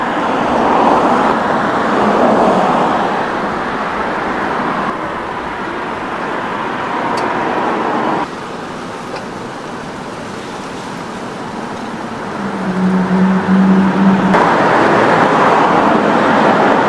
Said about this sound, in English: I see a whole lot of nice cars driving by all the time.